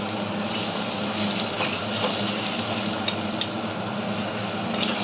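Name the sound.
water poured into spices in cooking pan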